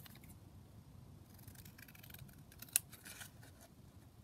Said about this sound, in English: I'm just going to cut that out now.